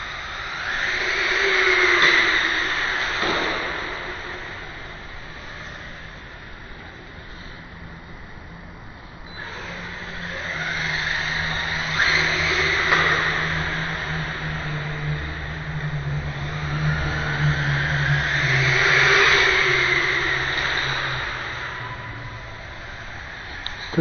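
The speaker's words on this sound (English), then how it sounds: "that's a fast car." An HSP 94123 RC car on a 2S battery accelerates in repeated whining runs, its high-pitched motor rising and fading as it passes, with steady outdoor background noise between bursts.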